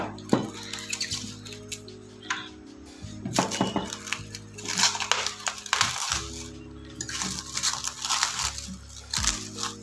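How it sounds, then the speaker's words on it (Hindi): Cling wrap is pulled and pressed over a bowl of buttered bread dough, giving irregular crinkling and crackling bursts with a few soft knocks, close by and under quiet background music. "इसको हम ऊपर से अच्छे से क्लिंग रैप भी कर देंगे"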